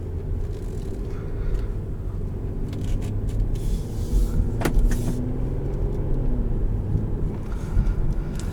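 A 2017 Infiniti QX50 with a 3.7-liter V6 and automatic transmission drives along, a steady low engine and road hum heard from inside the cabin with faint rustles.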